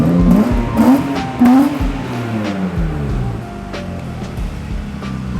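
A BMW F30 sedan driving along, its engine note rising and falling over a loud rushing road and wind noise, fairly close, with brief voice-like sounds early on.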